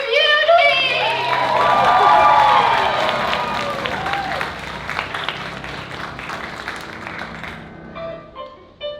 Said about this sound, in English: give a round of applause for the Bowery Beauty!